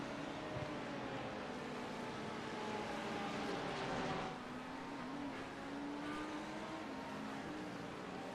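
An LMP2 prototype race car passes at Sebring during a 12-hour endurance race, its engine a distant, steady drone that swells slightly and shifts pitch as it goes by.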